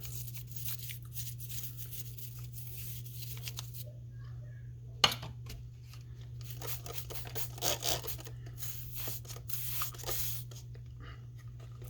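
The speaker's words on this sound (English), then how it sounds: "spray this down with a little bit of degreaser and take a toothbrush and just kind of scrub around in there a little bit" A toothbrush scrubs degreaser around inside a Penn 309 level wind fishing reel, giving quick, close bristly scratching bursts over a constant low hum, with brief pauses between strokes.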